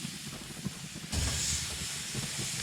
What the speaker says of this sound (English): You hear that sizzle, right?